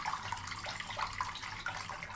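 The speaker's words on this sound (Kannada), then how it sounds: "ಆ ಪಾತ್ರೆಗೆ ಇನ್ನೊಂಚೂರು ನೀರು ಹಾಕ್ಕೊಂಡು ಅದನ್ನು ಆ್ಯಡ್ ಮಾಡ್ಕೊಳ್ತಾ ಇದ್ದೀನಿ" Water splashes and trickles into a cooking pot as a home cook adds it, a steady running pour with small gurgling bursts, close and continuous, with no talking.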